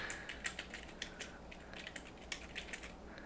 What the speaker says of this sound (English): what I'm doing is typing in Google Earth Pro download into Google